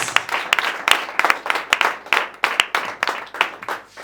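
Congregation clapping in a church, a steady run of sharp, close hand claps repeating in an uneven rhythm for the whole stretch, loud and dense with no talk over it.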